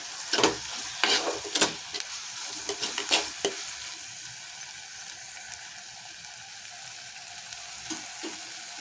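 Broad beans and vegetables sizzle in a hot pan with sambar powder and chili powder while a spoon scrapes and stirs in several quick bursts, then the frying settles into a soft steady crackle.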